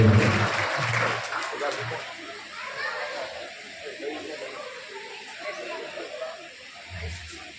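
Clapping from a gathered crowd at a bhajan week event, a burst of applause that starts fairly loud and slowly thins out, while someone speaks over it.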